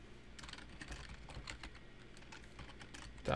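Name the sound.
typing a command on a computer keyboard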